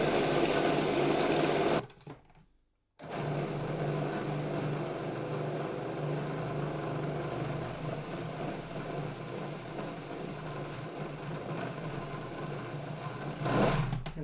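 A food processor or blender whizzes up a beauty bar mixture with a loud steady whirring motor, stops briefly, then runs again continuously.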